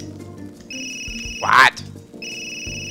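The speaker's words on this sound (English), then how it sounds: "Answer the phone." A phone rings in the video game Trauma Team: a repeating electronic ringtone of bright steady tones, broken by a short loud burst and a brief spoken word in the middle.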